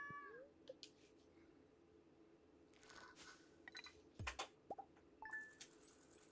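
Cat meowing in the farming video game Stardew Valley, a few short meows among soft game chimes and clinks over quiet background music, no talking.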